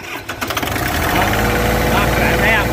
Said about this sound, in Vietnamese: Đó đề nổ máy rồi đó